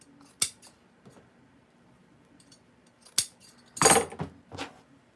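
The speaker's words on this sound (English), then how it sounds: "And I'm going to cut it." Scissors snip ribbon for a farmhouse wreath, giving a few sharp, close clicks and a longer rustling cut near the end, all fairly quiet with no talking.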